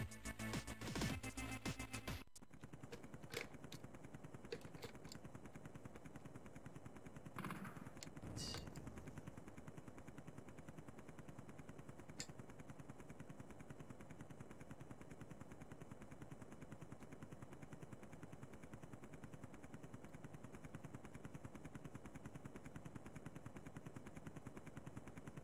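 Steady automatic gunfire from a military shooter game on the Amiga set in the Dolomites, a dense continuous rattle of rapid shots running loud from start to end with a few sharper bursts early on.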